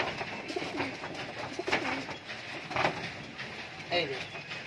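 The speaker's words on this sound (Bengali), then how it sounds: "সব খুব ভালো কোয়ালিটির পায়রা রয়েছে, আর সব হাই ফ্লার রয়েছে। প্রচুর পায়রা রয়েছে" A loft of high-flying pigeons coos softly and repeatedly, close by, over a busy background rumble with occasional flutters.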